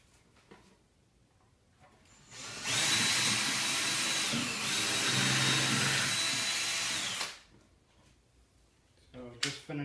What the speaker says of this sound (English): drilling my holes in the side for my two support pieces